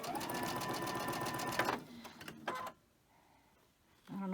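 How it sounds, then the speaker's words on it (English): A home sewing machine chain-stitches cotton quilt pieces, a fast close whirring run that stops, then a short burst, a quiet pause, and the motor starting up again. "I'm going to sew all 4 of these. I'm going to chain stitch them."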